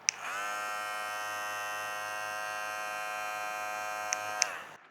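A Madeshow M10 electric hair clipper runs alone with a steady, fairly quiet motor buzz for about five seconds, starting and stopping with brief clicks.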